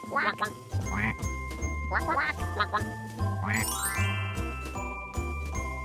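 Cartoon ducks quack repeatedly in a children's farm counting game, bright nasal quacks in quick bursts over a bouncy musical backing with tinkling chimes and a rising sparkle effect.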